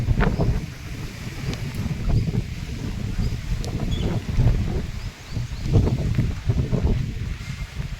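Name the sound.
strong wind blowing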